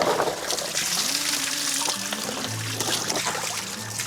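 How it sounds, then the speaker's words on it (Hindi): Cold, clear spring water flowing from a naula, a traditional stone-lined spring tank in Uttarakhand, a steady close trickle and splash with faint background noise, no talking. "सोर्स मिलता है हम वहाँ से पीने का पानी भर लेते हैं।"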